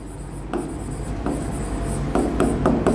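Chalk or marker scratching a line across a board in a physics classroom, a few short close strokes with faint rubbing between them and no talk.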